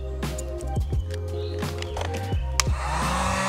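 A heat gun blows steadily up close while warming black satin vinyl wrap on car interior trim, a loud continuous whooshing hum with no talking.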